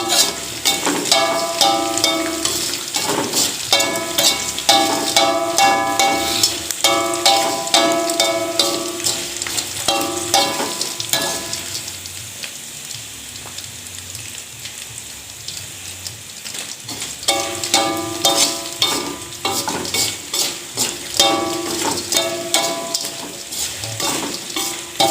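Grasshoppers frying in a pan crackle and sizzle continuously while a utensil scrapes and stirs in repeated rhythmic bursts, with a quieter stretch of plain frying hiss in the middle before stirring resumes.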